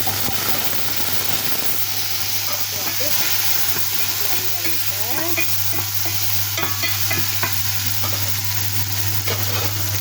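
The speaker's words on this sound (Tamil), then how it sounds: "கொஞ்சம் கடுகை போட்டு பறக்க விடணும்" Mustard seeds spluttering in hot oil for tempering a Tamil cassava dish, a steady close sizzle and hiss with scattered sharp pops and crackles throughout, plus a low constant hum underneath.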